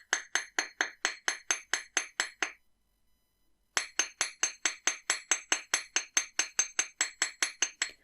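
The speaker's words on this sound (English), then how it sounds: "we're just going to gently hammer those loops" Hammer tapping wire loops flat for wrapped earrings, a quick run of bright metallic clinks at an even rhythm, close and clear, stopping for about a second before resuming at the same pace.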